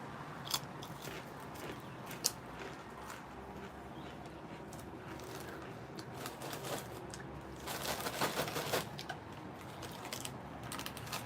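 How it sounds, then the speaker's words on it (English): Barbecue Shapes crackers are crunched and chewed close to the mic in irregular bites, louder toward the end, with no talking. "Right, barbecue shape time."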